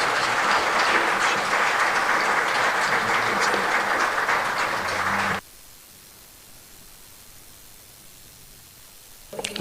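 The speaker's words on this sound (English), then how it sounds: "A round of applause once again." An audience at a lecture applauds in a dense, steady wash of clapping for about five seconds, then it stops suddenly, leaving near silence.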